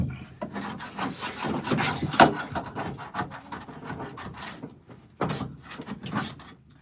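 A scraper drags across the body of a Honda hatchback in short, rough, repeated strokes, close by and uneven in rhythm, with brief pauses between scrapes.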